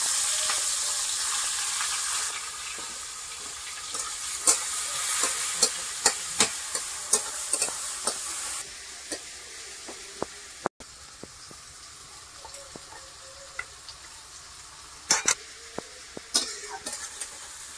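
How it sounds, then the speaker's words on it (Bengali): Chopped onions fry in oil in a wok. A steady sizzle is broken by frequent short scraping stirs, loud at first and then softer after about nine seconds. "পেঁয়াজটা ভেজে নিয়েছি একটু"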